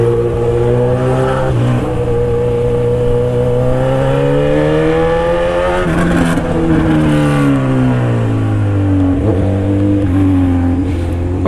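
A Honda CB1000 motorcycle engine growls loudly and steadily while being ridden, its pitch sliding up and down as the throttle rises and eases, with no talk over it.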